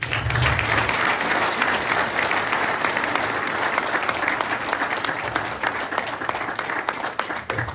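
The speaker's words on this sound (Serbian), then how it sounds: "pa da ih pozdravimo velikim aplauzom" Sustained, dense applause from a hall audience at a St. Sava's Day academy celebration in Danilovgrad, honoring the evening's performers. The clapping is steady and loud throughout, with no speech over it.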